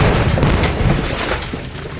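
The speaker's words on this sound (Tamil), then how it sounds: "இப்போ நான் இந்த ராக்கெட் லான்ச்சர் எடுத்து ஓடுறாது" A cartoon rocket launcher blast fills the whole span with a loud, continuous booming roar, heavy low rumble and broad noise sustained without a break.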